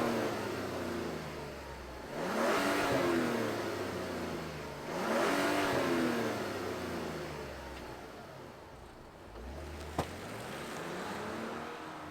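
A 2024 Mazda CX-90 SUV with the turbo engine, Turbo S trim, revs in two strong rising-and-falling surges a few seconds apart, then settles into a steady idle, heard close up with no talking.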